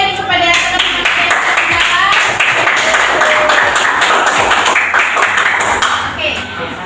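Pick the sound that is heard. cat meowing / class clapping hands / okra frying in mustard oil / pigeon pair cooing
class clapping hands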